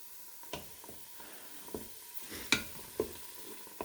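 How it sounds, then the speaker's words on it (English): Sloppy joe meat sautéing on medium in a Ninja Foodi, a faint low sizzle under occasional scraping stirs and a few light clinks of a utensil against the pot. "I'm going to keep stirring that around"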